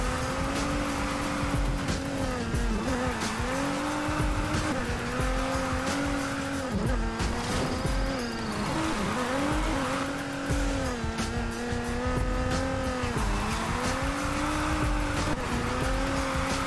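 A Polestar 1 drifts in Need for Speed Heat, its engine droning steadily while the tires squeal long and loud through repeated slides, the pitch wavering as the car swings through each corner.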